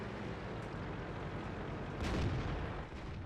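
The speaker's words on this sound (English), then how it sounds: "I'm going to take a chance here and put a shot near into his draw wheel, trying to track him." A tank gun fires in the video game World of Tanks: a muffled boom near the middle stands out over a dense, steady rumbling engine and battle bed, with no talk.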